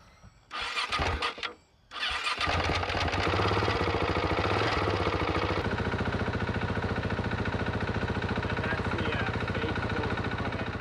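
A KTM 690 motorcycle engine cranks and sputters briefly, cuts out, then starts and settles into a steady, loud, close idle rumble that continues to the end.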